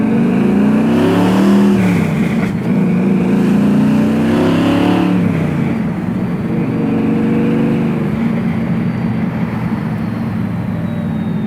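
A 1979 Chevrolet Camaro Z28 with its T-tops off cruises through Las Vegas, its loud V8 rumbling and revving up several times in the first half, then settling into a steady, close engine drone.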